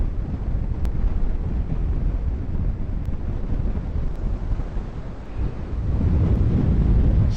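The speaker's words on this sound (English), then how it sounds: "These waves and breakers here are 2 to 3 feet, 4 feet in some cases." Two- to four-foot Atlantic Ocean waves break on the beach at Fire Island National Seashore in January, with wind buffeting the microphone. A continuous rushing roar of surf and gusts builds louder near the end.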